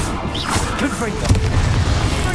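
A Confringo blasting spell detonating in the Hogwarts Legacy video game, a loud close boom with a crashing burst and rumbling tail; a voice speaks briefly over it.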